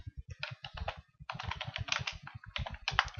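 Fast, close typing on a computer keyboard while writing a simple C program, with clattering key bursts that stop briefly and then resume, and no voice.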